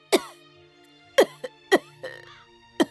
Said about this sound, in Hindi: इतना क्यों खांस रही हो?